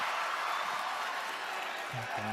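Wrestling arena crowd at a WWE SmackDown event, a steady wash of cheering and applause from a large audience filling the whole stretch, loud and continuous, with a faint voice briefly rising near the end.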